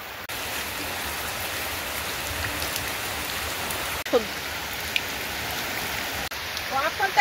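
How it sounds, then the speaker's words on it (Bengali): Steady rain falls outdoors near okra plants, a dense even hiss that runs throughout, with a few faint voices and brief sounds surfacing near the end. "বৃষ্টি আসছে তো বৃষ্টি আসছে তো ভেন্ডি গাছের তল ঢুকেছে"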